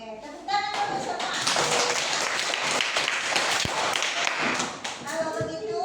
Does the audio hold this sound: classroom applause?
yes